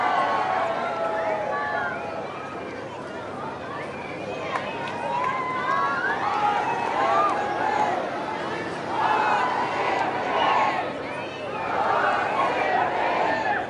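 A large outdoor crowd in Northern Ireland cheers and shouts for King Charles, a dense, continuous wash of voices rising and falling, with excited calls standing out.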